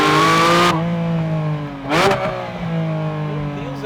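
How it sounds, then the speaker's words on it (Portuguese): A 2024 Porsche 718 Spyder RS revs loudly with clear induction noise, the engine tone climbing and falling through sweeping harmonics, with one sharp rise-and-drop midway and someone talking over it. "E esse barulho de indução aqui, cara"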